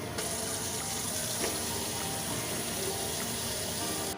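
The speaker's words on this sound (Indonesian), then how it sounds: "sebaiknya lukanya terlebih dahulu dibersihkan menggunakan air mengalir" Running tap water pours steadily in a kitchen sink while a wound is rinsed under it, a dense, even gushing hiss that fills the whole stretch without pause or voices.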